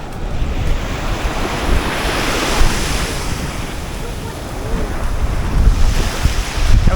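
Rough sea waves roll and crash continuously onto a beach in the Cayman Islands, a loud, steady surf roar with swelling surges and gusts of wind buffeting the microphone.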